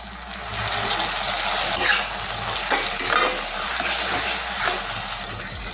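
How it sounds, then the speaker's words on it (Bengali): Soy sauce, red chilli sauce, tomato ketchup and white vinegar being stirred in a hot pan for chilli paneer, a loud close sizzle with repeated scraping strokes of the spatula and a wet, saucy texture, no talking. "দেবো red chilli sauce, tomato ketchup, দেবো হোয়াইট ভিনিগার"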